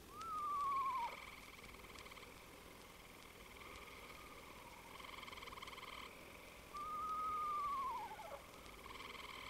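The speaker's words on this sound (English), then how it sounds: "A screech owl calls close by." A screech owl calls close by at night: two quavering whistles, each sliding downward, a few seconds apart and standing out clearly over a steady background hum.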